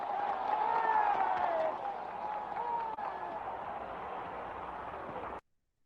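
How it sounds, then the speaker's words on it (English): Thunderous crowd applause rises after a civil rights speech closing with a spiritual, a dense, steady roar of clapping and cheering from a large outdoor gathering in an old recording, holding strong for about five seconds and then cutting off abruptly. "The video doesn't do it justice how thunderous of applause he got for that"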